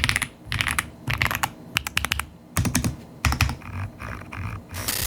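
Close-up gaming mechanical keyboard with lubed Keychron Super Red linear switches typing, a fast flurry of soft, smooth keystrokes with brief pauses between bursts.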